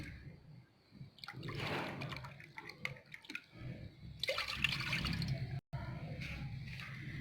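About one and a half glasses of water are poured into a pan while making ginger and pomegranate tea, heard as irregular splashing and trickling at moderate volume, broken by small clatters, with no clear talking.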